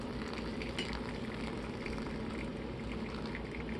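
Hot water pours slowly over coffee grounds in a Bodum pour-over brewer without a spouted kettle, giving a quiet, steady trickling hiss that runs on without a break.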